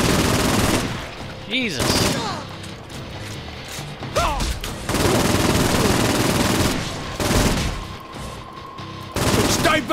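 Rapid gunfire at a crowd of hostile beverage cans in Saints Row IV, loud automatic bursts and clattering impacts broken by short pauses, with a brief spoken exclamation near the start.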